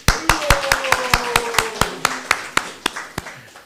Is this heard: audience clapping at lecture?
yes